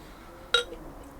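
A Red Rock Christmas Cheers beer bottle gives a single short, bright clink as its top comes off, then quiet follows.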